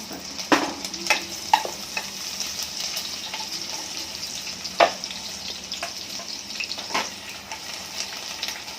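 Garlic and green chili crackle and sizzle in hot oil in a pan as tempering for toor dal, with a steady close hiss broken by sharp pops and stirring clinks, and no voices.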